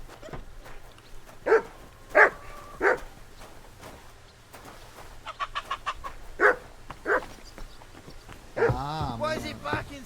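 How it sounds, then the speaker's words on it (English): A dog in the medieval game Kingdom Come Deliverance 2 gives short barks in scattered bursts, with chickens clucking nearby and a final louder yelping call, all over a quiet ambient background. "Why is it barking so much?"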